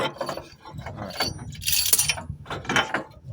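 Metallic ratcheting and clinking as the last motor mount bolt is worked out of a Ford E-Series van, with irregular mechanical clicks and scrapes at close range.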